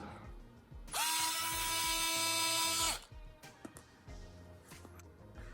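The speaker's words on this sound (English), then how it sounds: "There is a screw underneath where that cap was, so we will remove that." A power screwdriver whirs loudly for about two seconds while backing a screw out of an XS908 Raptor toy blaster, followed by quieter clicks and small handling noises.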